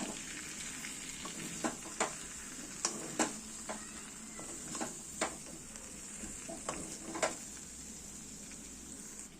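Fried cauliflower stirred into a thick korma masala in a pan, a quiet sizzle with repeated sharp spoon scrapes and taps against the pot at irregular intervals.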